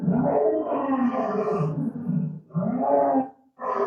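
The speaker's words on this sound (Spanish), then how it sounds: "¿Les gustó el rugido del león?" Lion roaring played back from a video through a speaker, several deep, rough, drawn-out roars and grunts in succession with short pauses between them, loud and close, no talk over them.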